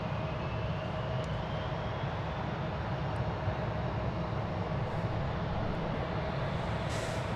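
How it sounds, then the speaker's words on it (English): American Airlines Airbus A321 touching down at DFW Airport, a steady low jet rumble with a faint whining tone, moderately distant and constant, no one speaking. "1395 from Minneapolis-St. Paul is just about to touch down. An Airbus A321."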